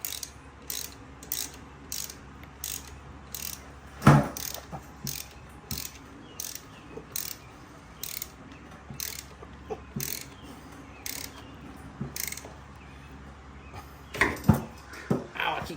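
A hand ratchet runs a locking bolt up on a Baja Bug in a garage, giving a long series of quick, evenly spaced clicks at close range with a few louder metallic knocks and no talk.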